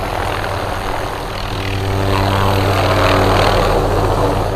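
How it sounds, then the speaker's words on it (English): Helicopter lifting off at a supercar show at Stansted House in Hampshire, a loud close engine and rotor roar with strong low throb that grows steadily louder in the second half, heard alone without talk. "one of the helicopters is now taking off"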